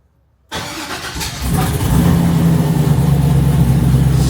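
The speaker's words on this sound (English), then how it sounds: "So let me start this thing back up" The engine of a 1972 Chevelle SS cranks and catches, then settles into a loud, rough, steady idle. The car is up on jack stands and has an oil leak.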